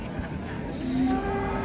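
A cow lowing in a farm setting on the slopes of Merapi, a single drawn-out moo that rises midway through the clip and is heard up close over steady background noise.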